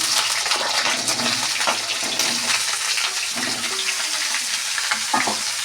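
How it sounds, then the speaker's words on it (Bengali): Potatoes crackle and sizzle in hot oil in a pan, a loud, dense, continuous frying hiss up close with a few stirring clatters, no voices. "এবার আলুটা ভেজে নেব।"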